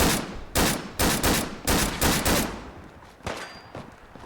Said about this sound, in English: She's putting that AK to work.